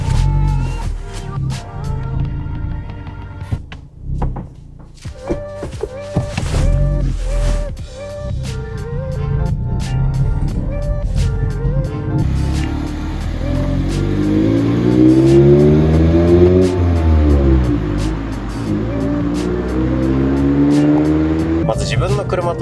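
Sports car pushed hard through a U-turn on a Japanese mountain pass road, engine revving up and down with rising and falling pitch sweeps, loud from inside the car, with people talking over it.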